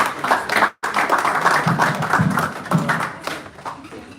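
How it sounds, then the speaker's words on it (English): A small live-stream audience claps at a studio event, a moderate patter of hands with a brief gap partway through, fairly close and steady, with a few voices mixed in. "A round of applause for us."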